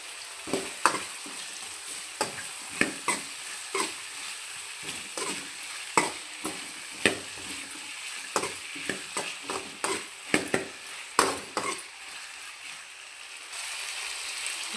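Sliced potatoes fry in a hot pan for a Kannada batate pulimunchi, a steady sizzle running throughout, broken by repeated scraping and stirring knocks of a spoon against the pan, loud and close.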